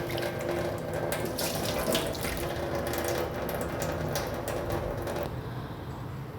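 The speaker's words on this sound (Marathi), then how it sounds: "त्यामुळे बटाटे चांगले धुवून घ्यायचे आहे दोन पाण्याने" Potatoes being rinsed under a running kitchen tap, a steady rush of water splashing into a sink with faint knocks of handling throughout, easing slightly near the end.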